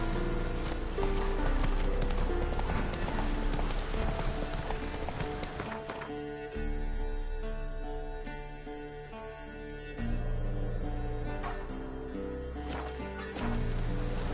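Roach the horse from The Witcher 3 gallops in steady, rapid hoofbeats, loud and close, carrying on through the whole stretch with brief shifts in pace.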